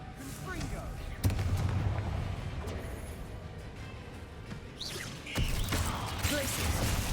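A Confringo blasting spell goes off in Hogwarts Legacy, giving sharp booming impacts with a crash and rumble, first near the start and again later, over game ambience while characters talk.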